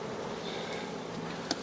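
Honeybees in an opened hive during a nuc transfer, giving a steady, dense buzz that stays close and even throughout with a brief sharper spike near the end.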